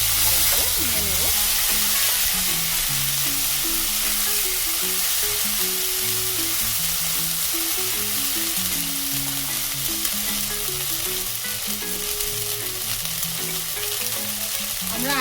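Ground spice paste sizzles loudly and continuously in a hot pan while being stirred during Indian dal cooking, with a steady frying hiss throughout.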